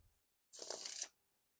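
A brief riffle shuffle of an Art of Play OverLook deck of playing cards, a quick crisp fluttering burst lasting about half a second, close up in an otherwise quiet space.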